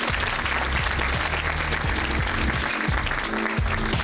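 An audience applauding at an alumni banquet, loud dense clapping filling the room steadily from start to finish.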